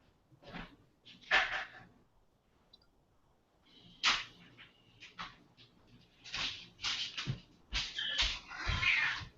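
A house cat meowing indoors: several short, scattered meows with pauses between them, close and moderately loud, and some light household knocks mixed in.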